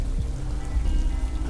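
Steady rain falls in a dense, even patter, loud and close throughout a brief moment with no voices.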